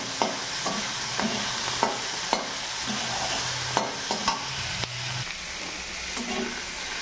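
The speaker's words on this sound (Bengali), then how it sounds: "এর মধ্যে দিয়ে দিলাম পেঁয়াজ কুচি, দিয়ে দেবো কাঁচা লঙ্কা কুচি। এখন এগুলো খুব সুন্দর করে ভাজি করে নেব।" Chopped onions and green chilies fry in hot oil alongside fish, a steady sizzle broken by repeated sharp clacks of a spatula stirring the pan, with no voices.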